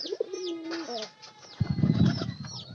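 A pigeon coos nearby in a loft, soft throaty calls with a few wing flutters and a low rustle toward the end.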